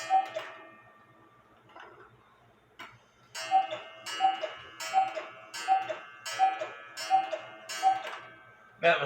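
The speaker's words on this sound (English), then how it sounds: "Next time it cuckoos, it will be correct." A cuckoo clock with a rack-and-snail movement strikes seven o'clock: seven evenly spaced two-note cuckoo calls, each with a soft mechanical click, sound close by and clear against a quiet room.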